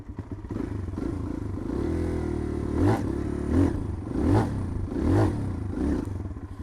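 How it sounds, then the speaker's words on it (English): A motorcycle engine runs at a steady throttle and the clutch is pulled in during wheelie practice, giving a continuous low engine drone with several rhythmic surges and clattery swells as the revs rise and fall. "riding along, nice consistent throttle, and then we dip the clutch in. That's the noise we're looking for."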